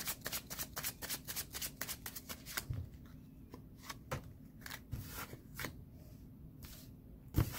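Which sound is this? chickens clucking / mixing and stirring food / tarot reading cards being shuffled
tarot reading cards being shuffled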